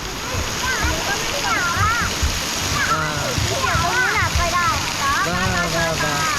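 Water splashes and rushes continuously at a water park, a steady loud wash with excited voices and shouting layered throughout.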